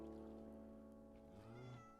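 A Minecraft cat gives a meow that rises and bends in pitch, ending in a short high whine over a steady background of game music.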